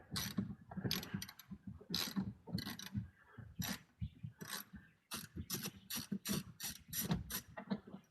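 A ratchet clicks rapidly in repeated bursts while a fastener is removed from the inner fender of a Chevrolet Colorado, close and loud, with short pauses between runs and no talk.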